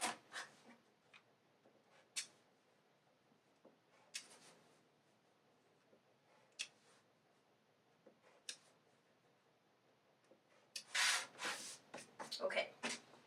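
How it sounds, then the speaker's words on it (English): Scissors trimming the pointed tips off striped fabric diamonds for a Christmas tree skirt, giving quiet scattered snips and rustles that build into louder cutting and handling near the end. "I'll just go ahead and trim off these tips while they are here."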